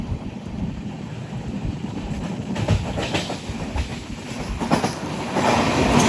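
The Netravati Express sleeper train runs from Lokmanya Tilak Terminus to Thiruvananthapuram Central with a continuous rumbling roll and rhythmic clickety-clack over the rail joints. Wind buffets the microphone, and the sound grows slightly louder toward the end.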